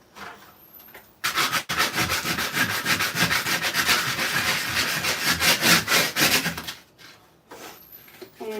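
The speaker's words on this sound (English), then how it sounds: "I'm gonna take some sandpaper and go through" Sandpaper rubs back and forth by hand over painted wooden furniture, a close, loud, continuous scratchy rasping with rhythmic strokes lasting several seconds, then stopping.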